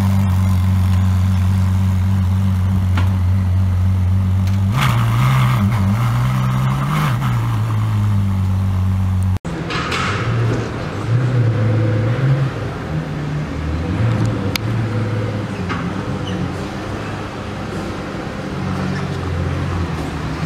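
A LaFerrari hypercar rolls into a transport truck, its engine droning low and steady before a brief revving burst and shuffling movement sounds close by.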